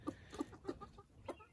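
Backyard chickens on a Maryland farm clucking in a loose series of short, fairly close calls, about five distinct clucks with quiet gaps between them and no talking.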